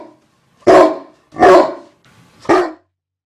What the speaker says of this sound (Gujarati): કૂતરો કેવું બોલે છે?